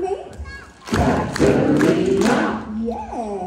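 A crowd at a live children's concert in Renmark claps out the syllables of a name together, several loud group claps in a steady rhythm mixed with chanting voices, followed by an adult speaking.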